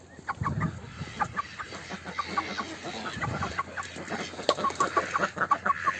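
Several chickens cluck in short, irregular bursts close by on a poultry farm, with a low background rumble throughout.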